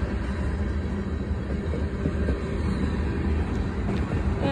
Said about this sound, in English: I haven't seen a CSX freight train in like 2 months.